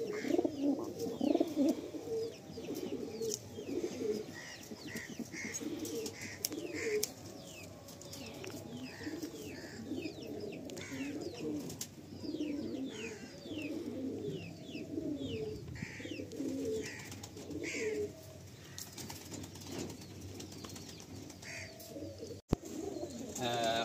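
Madrasi pigeons in a loft cooing continuously, layered soft low coos from several birds with faint chirps, close and steady throughout.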